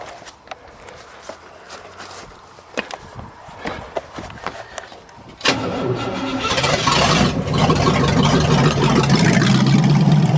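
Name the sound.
loader engine starting for first time since 2001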